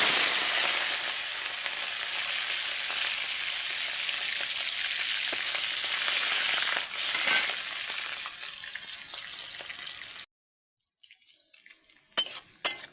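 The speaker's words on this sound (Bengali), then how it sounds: "তেলটা গরম হয়ে গেছে, আমি এবার চিংড়ি মাছগুলো ভেজে নিব" Prawns sizzling steadily in hot oil in a pan, a continuous close crackle for about ten seconds before cutting off, followed by a few short spits and clinks.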